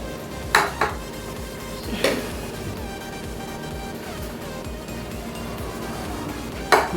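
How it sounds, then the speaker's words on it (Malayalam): Chicken pieces for biryani being stirred in a pan with mint and coriander leaves, with a steady low scrape and clatter and a few sharp metallic clinks of the spoon against the pan. "മല്ലിയിലയും ചേർത്ത് ഒന്ന് വഴറ്റും"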